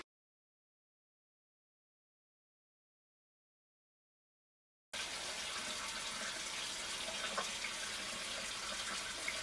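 Tap water gushes steadily over cured pork bellies in a sink, starting abruptly after about five seconds of silence and then running as a constant, close hiss with no voices.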